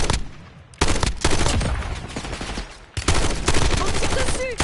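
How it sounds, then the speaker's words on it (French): Loud gunfire in Warzone erupts in two long automatic bursts at an enemy, dense and close, with a short gap between them. "On tire dessus."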